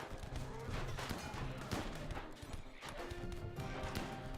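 Turret gunfire from a colony-survival game rattles in steady bursts, mixed with crashing impacts and clattering, loud and dense throughout without talk.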